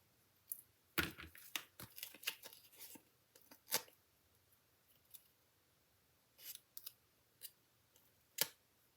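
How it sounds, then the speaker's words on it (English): Scissors trim card paper close by in a quiet room, with quick bursts of snipping and paper rustle, a pause, then a few more scattered snips. "That one I might trim it a bit."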